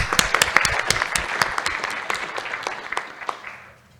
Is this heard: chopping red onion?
no